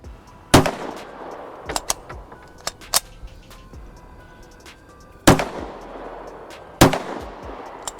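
Rifle shots from a gun fitted with an Aimwin PN320 RMR red dot and a PMag magazine: four loud, sharp cracks spaced a few seconds apart outdoors, with fainter distant pops between them.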